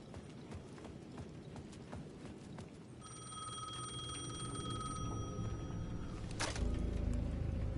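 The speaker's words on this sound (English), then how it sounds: "The payphone at the edge of the plaza was ringing again." A payphone rings on a plaza in the video game Alan Wake 2, its bright electronic ring rising from a steady bed of rumbling ambient noise and drawn-out tones, moderately loud and continuous.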